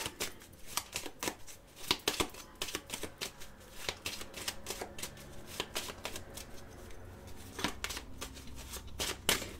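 Tarot cards being shuffled by hand: a quiet, rapid run of crisp riffling snaps and papery slaps that comes in bursts, with no voices.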